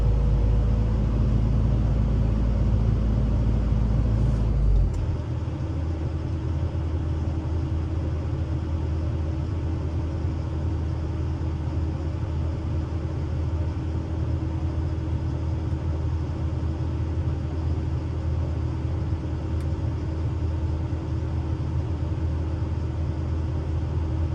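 Heavy truck engine straining as it climbs a slope at a farm pond excavation site, a steady loud low rumble running throughout, with a brief louder burst near the start before settling into a constant drone.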